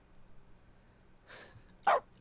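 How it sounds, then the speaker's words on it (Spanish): Dog barking in The Stanley Parable video game: after quiet room noise, a soft muffled yelp is followed by one sharper, louder bark, both brief and fairly close, with no speech. "Vale, ahora ladramos."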